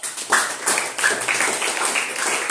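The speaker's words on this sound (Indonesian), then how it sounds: "Tepuk tangan untuk Yuda, Tanya, dan Widya" A classroom of students clapping for classmates, a short burst of light, scattered hand claps at moderate distance, uneven and fairly brief.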